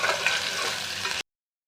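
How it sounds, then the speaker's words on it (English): Sliced onions fry in hot oil with a loud, close sizzle and crackle that runs steadily, then cuts off abruptly. "and now this oil become a hot, and now added the sliced onion cutting, and fry well"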